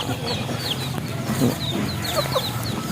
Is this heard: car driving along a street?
no